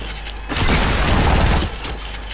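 Sustained burst of gunfire spraying in a Fortnite match, a dense loud roar lasting about a second over a busy game background, with no voices.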